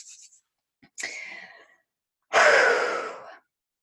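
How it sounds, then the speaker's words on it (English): A few slow, deep breaths drawn close to the microphone, a short inhale followed by a longer, louder exhale, with quiet pauses between. "let's just take some deep breaths and shake it out"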